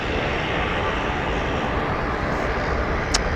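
Small Diamond DA-20 propeller plane, about 18 years old, at Phoenix Sky Harbor airport, giving a steady broadband engine drone that holds evenly throughout at moderate loudness, with no one talking.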